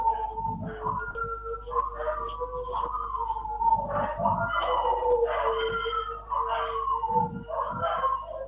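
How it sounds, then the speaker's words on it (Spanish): Pet dogs at home yip and howl in drawn-out, wavering calls that rise and fall, continuing in the background for several seconds. "Ahora voy a decirle a mis perritos que se callen."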